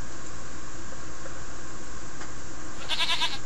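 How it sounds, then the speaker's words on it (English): A goat bleats once, bright and brief near the end, in the King's Quest 1 video game, set over a steady hissing background that fills the rest. "You tempt the goat with a carrot, and he begins to follow you around."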